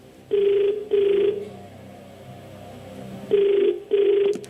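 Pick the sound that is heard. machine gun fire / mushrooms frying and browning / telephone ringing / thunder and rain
telephone ringing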